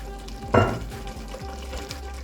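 Okra and pistachio sauce stirred in a pot as it cooks: a soft, continuous sizzle with a spoon scraping and clattering once sharply, then quieter stirring strokes.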